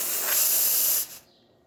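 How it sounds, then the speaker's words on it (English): Steam and hot water hiss hard from the hot water tap of a Diletta espresso machine for about a second, loud and close, then the rush cuts off sharply and leaves a faint fading hiss. "we will just release some water out through the hot water tap just to show steam running really well"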